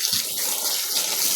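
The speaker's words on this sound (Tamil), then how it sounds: "ரொம்ப வெயில், அதனால தண்ணி அடிச்சு விட்றோம்." Water is sprayed onto a dog on a hot day, a continuous hissing gush close by with a faint low thump near the start.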